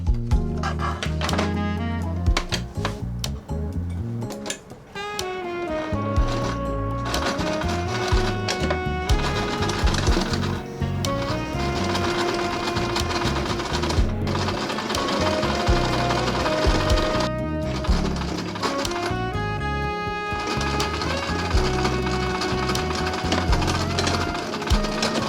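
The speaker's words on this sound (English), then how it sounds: "Okay, let's try sewing" A sewing machine stitches fabric in long continuous runs, its motor whirring and needle thumping rapidly and close, with brief slowdowns and pauses between passes and no voices.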